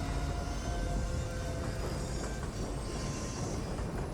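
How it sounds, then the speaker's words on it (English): Train carts in the Little Nightmares 2 video game decouple and roll away, giving a loud, continuous rumbling rail clatter with metallic ringing tones throughout. "Mono makes it to the other train cart and decouples them, making for a very loud getaway"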